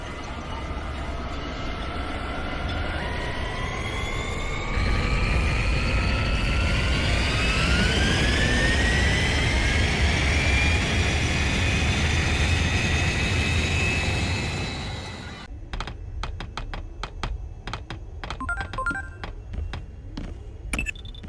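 An aircraft in the Digimon Story Time Stranger video game takes off with a rising engine whine that swells into a loud, sustained roar, then cuts off into a burst of rapid clicking and rattling effects.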